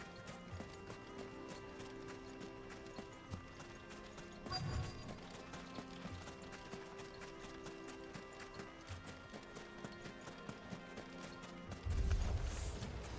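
Horse hooves clip-clop in a steady, even rhythm throughout a video game scene, quiet and continuous, with a couple of brief louder thumps along the way.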